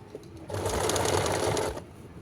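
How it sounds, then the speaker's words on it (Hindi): A sewing machine stitches pleats into a salwar belt in a continuous close whirring run of about a second, with quiet stillness before and after and no speech. "यहाँ पर भी इसी तरह हम सिलाई लगाएंगे"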